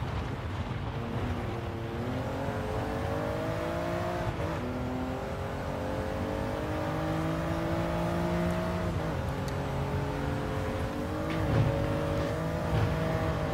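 Toyota GR Yaris engine in Gran Turismo Sport hums and rises and falls steadily through corners, sustained and fairly loud with shifting pitch and no talking.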